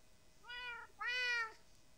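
Two clear cat meows from a Minecraft cat, a shorter call then a longer rising-falling one, close and distinct over a quiet background.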